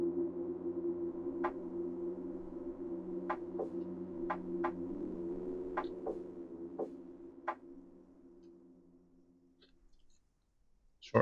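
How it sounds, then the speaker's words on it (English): Morse code signal in the game Reverse 1999: a run of sharp, evenly spaced clicks of short and long length over a low steady hum, fading out near the end. "Short and long sounds are distinct, they form a certain rhythm. Morse code?"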